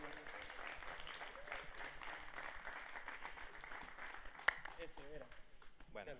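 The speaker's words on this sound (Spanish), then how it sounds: "Un fuerte aplauso para ellos" A crowd applauds a band taking the stage at a live concert in a Chilean music hall: quiet, continuous clapping beneath a loud voice speaking over it.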